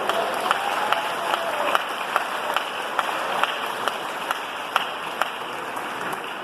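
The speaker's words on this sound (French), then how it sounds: "Bible, applaudissement royal." A church congregation applauds steadily, dense clapping from many hands with a few sharper claps standing out, sustained without pause at a moderate distance.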